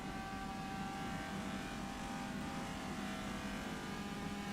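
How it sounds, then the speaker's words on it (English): A Ford GT40 race car engine idling at low revs, giving a steady, continuous mechanical drone that holds the same level throughout with no revving or passing. "those GT40s are very nice, but at low revs they sound awful"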